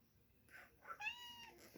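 A pet house cat meows at home, a short series of close, clear meows with some rising, drawn-out calls, heard alone in a quiet room.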